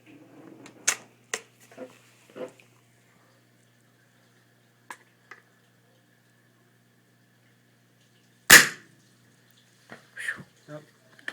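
A Swiss Arms SAR10 CO2 rifle fires a handful of sharp, isolated pops separated by silence, with one especially loud crack near the end and fainter clicks around it.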